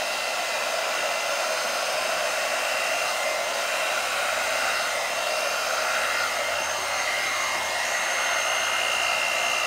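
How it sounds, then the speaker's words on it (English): A new hair blow dryer runs continuously over a paint-pour canvas being flooded with white paint, a loud, steady whooshing hiss close by with no talking. "I have a new blow dryer here,"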